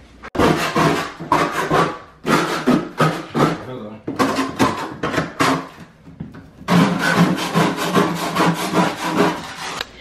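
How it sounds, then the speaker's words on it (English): Vinyl scraper scraping up ice on a hard surface, repeated loud rasping strokes in bursts with short pauses, close and dry, with people talking briefly amid it. "He's using that vinyl scraper."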